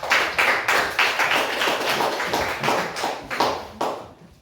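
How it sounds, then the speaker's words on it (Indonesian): Students in a classroom clap for a classmate in a steady rhythmic pattern of distinct, evenly spaced claps. The claps are fairly close and carry on for a few seconds before stopping. "Oke, tepuk tangan dulu buat Irna."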